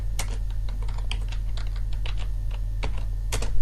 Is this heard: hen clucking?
no